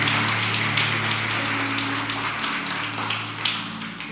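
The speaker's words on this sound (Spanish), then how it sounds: "Dale un aplauso al Señor Jesús." A church congregation breaks into sustained applause during worship, a steady dense clapping over a low sustained hum, with no talking on top.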